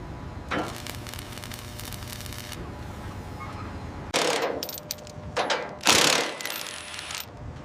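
A ratchet tool tightens a bolt to torque spec while assembling a modular offshore system. A hum and static run throughout, broken by bursts of loud, close clicking near the end.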